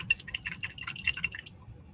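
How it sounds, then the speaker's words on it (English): Acrylic paintbrush swished and tapped in a water cup, giving a run of faint drips, splashes and clinks over about two seconds, close by and fairly quiet. "Wash my brush."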